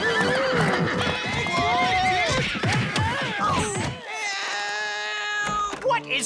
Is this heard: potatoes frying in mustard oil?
no